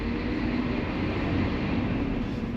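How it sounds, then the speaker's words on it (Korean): Inside a BMW iX50 electric car on the road, a nearby dump truck's noise comes into the cabin as a steady, heavy low rumble that does not change, with no voices over it. "저 덤프트럭 소리가 안으로 졸라 들어오고 있는데"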